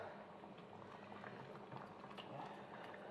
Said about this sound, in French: On va laisser mijoter comme ça